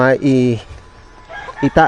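Loud, close clucking and crowing-like calls from backyard chickens in hot weather, in short harmonic bursts with a brief lull between them.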